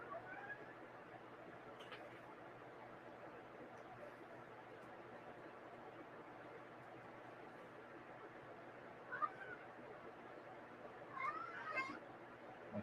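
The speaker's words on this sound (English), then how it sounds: "My cat apparently has opinions about that." A house cat meowing a couple of times, short faint calls rising briefly above a quiet room hum, with a voice also present.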